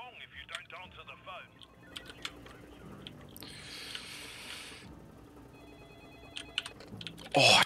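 A telephone rings in the stealth heist video game Payday 2, repeated electronic ring bursts among game beeps and clicks, with people talking at times.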